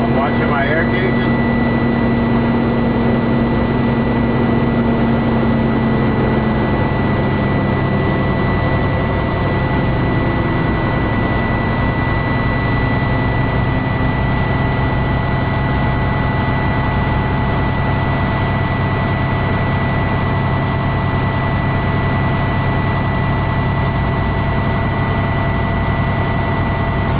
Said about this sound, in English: I'm going to bring my tachometer up between 12 to 1500 RPM until the air gauge gets to approximately 85 psi.